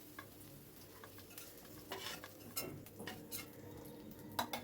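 Potatoes fry in oil over a high flame while a utensil steadily stirs them, giving a close, continuous sizzle with scraping and clinks against the pan and no talking.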